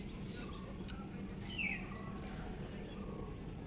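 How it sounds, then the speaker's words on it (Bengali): Many birds call around a rooftop in the morning, with scattered faint, high chirps and tweets over a steady wash of outdoor background noise. "কত পাখি ডাকছে।"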